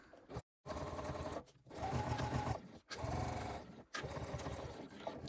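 Sewing machine running steadily, stitching along a bag's top-stitch line at 1/8 inch, in several sustained bursts with brief pauses between them, close and fairly loud.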